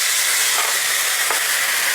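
Loud, close, steady sizzle of pork browning in a hot pan as vermouth is poured in, a broad hiss with faint stirring ticks and no talking.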